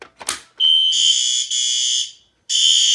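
A fire alarm system under test blares loud, piercing electronic tones in long sustained bursts with a brief gap, after a short rustle at the start.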